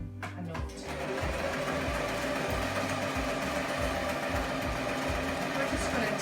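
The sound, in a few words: sewing machine stitching a scrunchie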